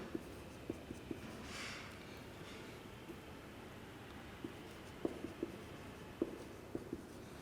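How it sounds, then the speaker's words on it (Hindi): A lecturer writes the words Zeeman effect on a board, giving sparse, faint taps and short scratches of the writing tool over a steady background hiss. "मैं सबसे पहले ज़ीमैन इफेक्ट लिख देता हूँ।"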